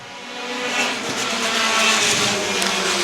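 Pack of pure stock race cars roaring off at the start of a feature race on a speedway oval, a loud, dense engine drone that builds steadily and stays strong, with faint tire noise mixed in.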